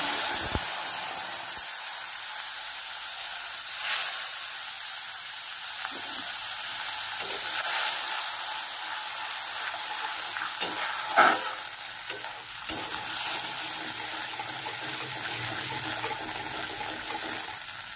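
Spice paste frying in hot oil in a pan for katla fish curry (tel jhal), just after fish fried; a steady close sizzle with occasional stirring scrapes and small spatters, no talk.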